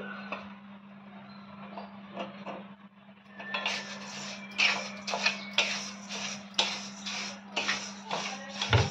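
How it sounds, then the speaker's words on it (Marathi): Sorghum grains pop and crackle in a hot iron pan over medium gas, with bursts of sharp dry ticks and rattles over a low steady hum, close and growing busier. "ज्वारी अशी फुलायला पाहिजे। हे बघा चटचट असा आवाज येतोय"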